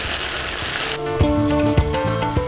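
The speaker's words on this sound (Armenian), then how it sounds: "Տապակում եմ նաև հացը։" Bread slices fry in a pan for apricot bruschetta, giving a bright, steady sizzle that is loudest at the start and then continues under rhythmic background music.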